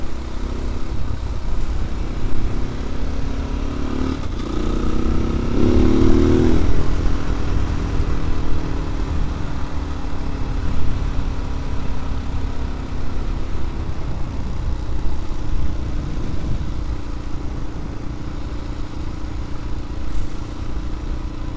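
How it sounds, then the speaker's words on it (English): A motorcycle engine idling close by with a loose, metallic clattering rattle from aftermarket clutch plates running through it, briefly rising in revs early on, then settling back. "It's just a clutch plate. They make that noise."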